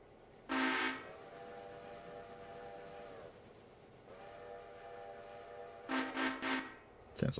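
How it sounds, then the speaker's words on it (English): A passenger train's horn sounds from a distance in a few blasts, a long tone near the start and a cluster of short honks at the end, over a low steady rumble of the approaching train. "Sounds like our passenger train's on the way up there somewhere."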